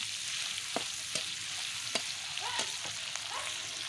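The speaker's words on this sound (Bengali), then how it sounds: "লবণ হলুদের সাথে একটু একটু করে কিন্তু আমি চিংড়িটা ভাজা করে নিয়ে" Shrimp frying with salt and turmeric in a pan on a clay stove outdoors in a village, a steady hissing sizzle broken by sharp ticks and clacks of stirring.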